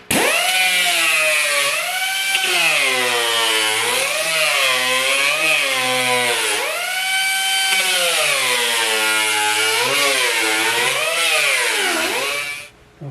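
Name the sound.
air sander trimming glass template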